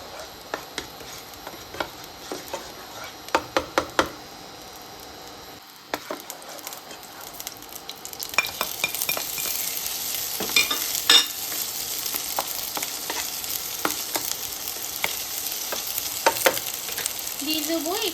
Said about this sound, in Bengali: প্রথমে পনিরটাকে ভালো করে একটু ভেজে নেব, একটু পনিরটাকে ফ্রাই করে নেব।